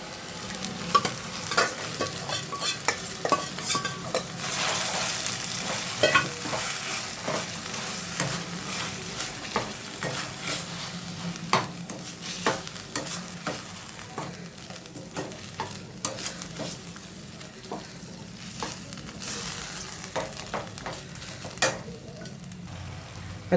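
Marinated chicken palya frying and being stirred in a pan, a steady close sizzle broken by frequent sharp scrapes and clinks of the spoon against the pan, with no talking.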